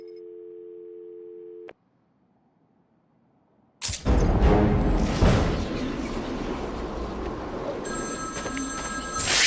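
Phone in Batman: Arkham City, a short electronic ring tone that cuts off, then a pause and a loud rumbling burst of game sound with a second ringing tone toward the end.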